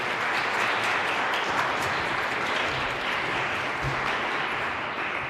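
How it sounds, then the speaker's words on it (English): An audience at a school DARE graduation ceremony claps continuously, a steady wash of many hands at moderate volume with no voices breaking through. "Y'all clap it up for him."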